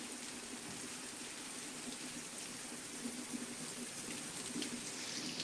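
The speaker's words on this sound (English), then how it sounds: "The rain's getting a little heavier" Rain falls steadily in a faint, constant hiss with scattered drop patter, growing slightly heavier, no voices.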